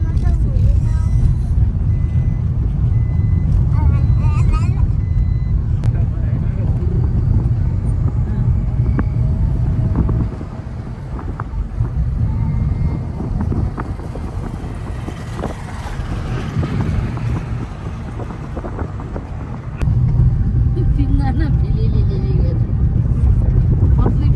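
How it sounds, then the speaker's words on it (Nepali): Three scooters ride at night toward a town fair. A steady engine drone mixes with heavy wind rumble on the microphone, and it dips and swells as the ride goes on. "हाम्रो केटाहरू चाहिँ 3 जना स्कुटरमा अगाडि अगाडि छौँ"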